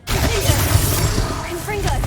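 A Bombarda spell blast in Hogwarts Legacy bursts with a loud, shattering crack followed by scattering debris and crashing fragments over about two seconds, close and forceful, with a voice faintly present.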